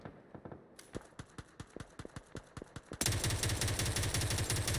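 Rapid bursts of rifle fire from the MK47 Mutant in PUBG, a quick series of sharp close shots in two- and three-round groups, then a louder, denser stretch of firing with heavy rumble near the end.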